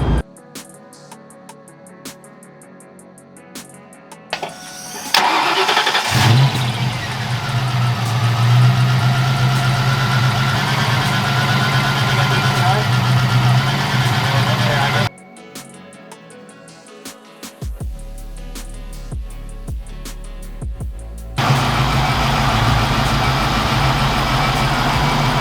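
Close-up, a Foxbody car engine cranks, catches and settles into a steady idle, then cuts off and restarts, with the tone shifting as the idle changes.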